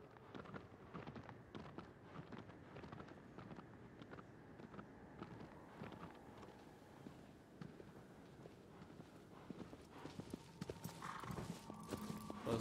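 Hooves clip-clop in a steady galloping rhythm as a horse runs in Shadow of the Colossus, continuous and fairly close, mixed with wind and outdoor game ambience and no speech.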